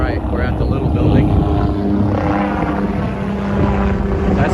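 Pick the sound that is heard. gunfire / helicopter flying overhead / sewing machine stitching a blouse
helicopter flying overhead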